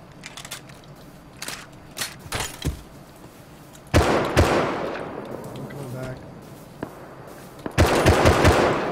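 Gunfire in the survival video game Rust comes as loud bursts of rapid shots. Scattered single cracks lead into heavy sustained volleys, and people talk excitedly over the firing.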